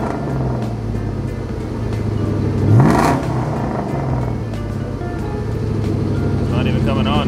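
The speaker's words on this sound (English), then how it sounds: "you give it a rev" A Ford Mustang with a 4V engine swap revs up once, the engine note swelling and rising in pitch midway before settling back to a steady idle rumble, with a person talking over it.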